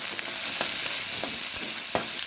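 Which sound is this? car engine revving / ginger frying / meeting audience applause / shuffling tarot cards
ginger frying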